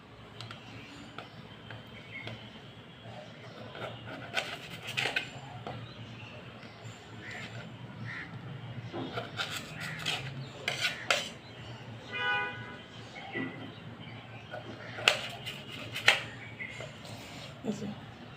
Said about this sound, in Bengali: এই যে টমেটোগুলোকে কেটে এই সাদা অংশগুলোকে এরকম করে ফেলে দিতে হবে।